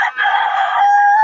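A rooster among chickens offered for sale lets out one loud, close crow lasting just over a second, rising and then holding a steady drawn-out note to the end, with no talking.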